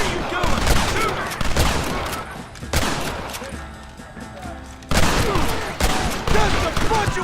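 Dense gunfire rattles through a Western shootout in Red Dead Redemption, volleys of rifle and pistol shots crackling close and loud in bursts with brief lulls, while voices shout over the battle.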